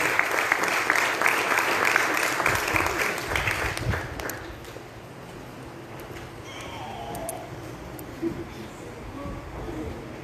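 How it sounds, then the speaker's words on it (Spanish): A wedding congregation in a church applauds loudly for the pastor for about four seconds, then the clapping fades into quieter room noise with faint voices. "Ahora recibamos a nuestro pastor con un fuerte aplauso."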